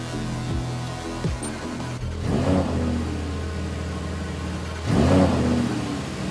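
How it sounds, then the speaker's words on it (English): A Lamborghini Huracan EVO V10 engine fires up on the factory floor, with two loud revving surges climbing and falling over a steady low rumble, heard up close with no talk. "And then, the V10 of the Huracan is allowed to roar for the first time."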